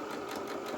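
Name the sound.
sewing machine stitching a shirt crease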